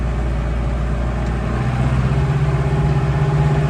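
A tractor spreading manure drives out of a field entrance, its diesel engine a steady, loud, close rumble whose low throb grows heavier partway through, heard alone without talk.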